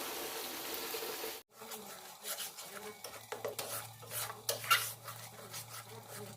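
Spinach paste and spices being stirred and fried in a pan on low heat, soft scraping and rubbing strokes with light sizzling and a low steady hum, quiet and close, preceded by a brief louder noise that cuts off abruptly.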